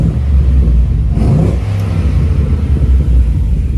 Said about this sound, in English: I will give it a bit of a rev so you can hear it